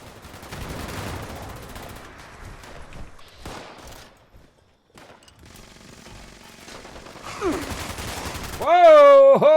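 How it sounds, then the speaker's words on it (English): Gunfire in the video game Fallout 76 rattles in rapid, loud bursts amid busy game noise, with a speaking voice woven through. "Something's shooting."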